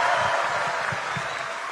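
Sustained crowd applause at an Indonesian political campaign rally for Gibran, a dense steady wash of clapping filling the whole stretch with a faint murmur of voices underneath.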